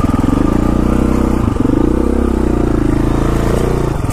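Dual sport motorcycle pulling along a West Virginia county road in first gear, its engine a loud continuous close-up drone with a short dip partway through.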